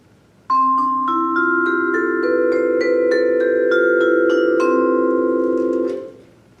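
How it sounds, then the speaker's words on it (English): A vibraphone plays a rising run of struck metallic notes that ring on and blend into a sustained shimmering chord before fading. "the vibraphone is a little bit different from the bell set"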